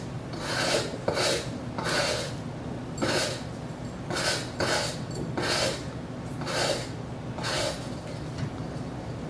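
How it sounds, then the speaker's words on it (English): A broom sweeps a driveway in a reenactment, giving repeated raspy bristle strokes about every second, fairly close and steady with no talk. "my neighbor is sweeping her driveway"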